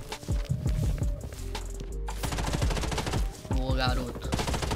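Gunshots in the mobile shooter Blood Strike: a rapid string of sharp, close automatic rifle shots, a brief pause, then more bursts, with a player talking over the action.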